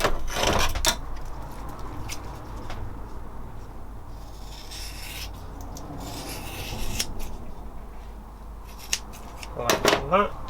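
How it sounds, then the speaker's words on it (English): A roll of exhaust wrap being trimmed on a Honda CB250 scrambler build: close scissor snips and rubbing of the fabric, with a few sharp cuts at the start and end. "just going to trim up the end again to make it neat"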